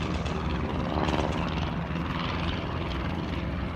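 World War I aircraft flying at the Duxford Air Festival, a loud continuous propeller engine drone passing overhead with little change across a few seconds.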